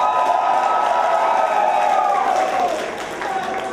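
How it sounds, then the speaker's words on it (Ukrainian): A club audience at a contest in Kyiv applauding and cheering the contestants, a dense steady wash of clapping and crowd noise that fades slightly at the end. "Ваші оплески Тору!"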